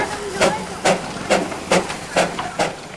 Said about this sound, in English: Leaving Siliguri behind, the locomotive puts on a burst of speed.